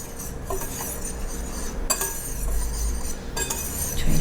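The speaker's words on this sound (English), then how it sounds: "And I'm going to give these a whisk." A whisk clinks against a glass bowl of spices, baking soda and baking powder, with quick metallic taps and scrapes, close and fairly loud, in a few bursts separated by short pauses.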